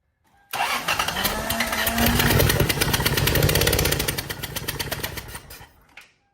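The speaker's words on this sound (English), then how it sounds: "I'm gonna crank it up and hopefully it's got enough compression to just shoot it out" A Lexus engine with a million miles on it cranks over on the starter for several seconds to blow a stuck part out by compression, giving a loud, steady rhythmic chugging close by before cutting off abruptly.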